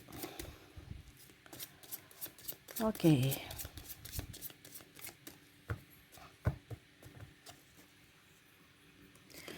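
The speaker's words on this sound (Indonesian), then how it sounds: "saya kocok kartunya" Tarot cards shuffled by hand at close range, soft riffling and flicking patters scattered across the stretch with a few brief louder bursts, a quiet voice speaking briefly over it.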